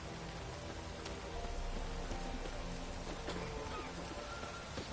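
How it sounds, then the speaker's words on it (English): A heavy rain downpour in the video game The Witcher 3 pours as a dense, steady hiss of drops pattering on surfaces, loud and continuous with a few sharper splashes and no talking. "Proper downpour this is."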